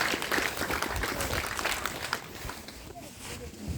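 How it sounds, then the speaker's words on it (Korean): Fairly faint applause from an event audience welcoming Seoul and Gangnam council members, scattered clapping with some shuffling steps, continuing at a moderate distance and slowly thinning. "박수로 환영해주세요."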